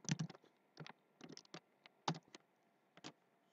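Quick bursts of keystrokes on a computer keyboard while VBA code is entered, irregular clusters of light clicks separated by short pauses, close and quiet with no voice.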